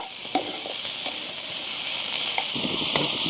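Hot oil sizzles steadily in a pan as a tempering for dal is made, a constant bright hiss with occasional soft clicks of stirring.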